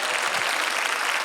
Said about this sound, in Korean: 하나님께 뜨거운 감사의 박수를 던집시다